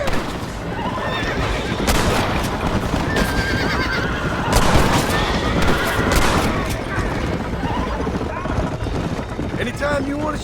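Horse-drawn wagon in the Red Dead Redemption video game, with whinnying horses and clip-clopping hooves under bursts of gunfire, steady and close throughout, with a voice speaking over the chase.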